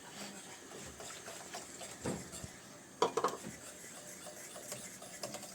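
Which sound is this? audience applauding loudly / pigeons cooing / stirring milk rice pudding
stirring milk rice pudding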